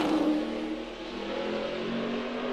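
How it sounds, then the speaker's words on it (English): NASCAR Sprint Cup stock car at Martinsville easing onto the throttle off a corner, a steady mid-pitched engine drone that swells slightly, moderately distant and alone without talk. "you could hear that also, Larry, just couldn't quite get it wide open quick enough. Had to ease into the throttle off the corner"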